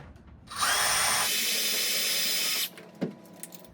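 Cordless power drill driving screws into the top edge of a MAAX Cyrene corner shower kit frame: one whirring burst of about two seconds, close and loud, then a brief clunk, with no talk.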